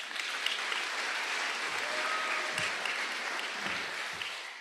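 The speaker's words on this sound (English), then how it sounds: "Let's give him a round of applause." Steady applause from a large crowd at a university commencement ceremony fills the whole stretch, dense and even, with a few louder claps standing out.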